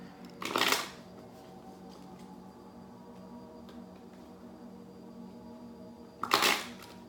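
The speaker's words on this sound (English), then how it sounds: "I'm going to get an Isis Oracle card for you guys" Isis oracle cards are shuffled in two brief riffling bursts several seconds apart, soft and close, over a faint steady background hum.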